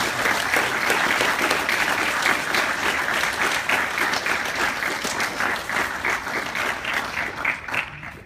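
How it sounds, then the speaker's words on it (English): An audience applauds at a Brazilian jiu-jitsu purple belt promotion at an Arlington, Texas academy. The dense, steady clapping from many hands carries for about eight seconds and thins out only at the very end. "So it'd be a round of applause."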